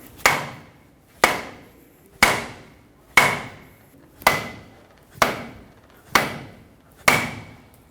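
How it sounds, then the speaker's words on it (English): Rubber mallet tapping a part into a Ford F-350 front axle during ball joint work, eight evenly spaced sharp knocks about one second apart, each ringing briefly before the next strike, close and fairly loud. "time to get a rubber mallet and tap it in."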